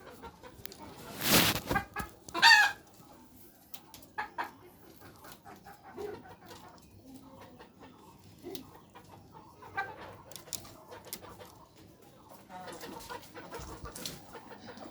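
Chickens clucking nearby with a loud burst of squawking early on, then scattered softer clucks and rustling.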